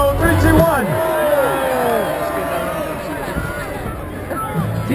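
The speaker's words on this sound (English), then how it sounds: "Crowd response for Tim Tebow" Stadium crowd reacting to Tim Tebow, a loud mass of voices, shouting and jeering swelling near the start and then holding as a steady rumbling roar.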